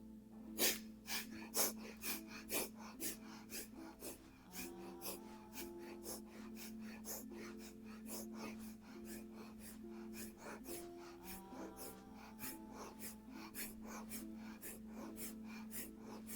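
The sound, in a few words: rapid yoga breathing, breath of fire, while rocking in bow pose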